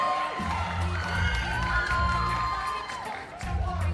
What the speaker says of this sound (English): And a big round of applause for our 5 nominees